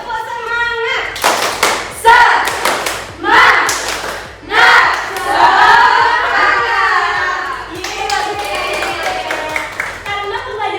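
Schoolchildren in a classroom clap out a rhythmic cheer, crisp hand claps landing in quick repeated patterns mixed with chanting young voices and a teacher's speech between rounds.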